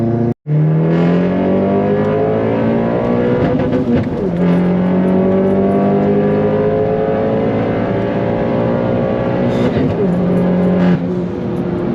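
A tuned Vauxhall Corsa VXR 1.6 turbo holds a loud, sustained high-rev engine note close by. The pitch rises and falls through repeated rev sweeps and pulls off the limiter, with no talk.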